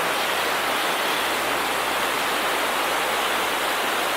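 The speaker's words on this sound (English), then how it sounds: "We got a river flowing away from us." Puyallup River rushing over rapids: a steady, broad roar of flowing water heard close and even throughout, with no voices.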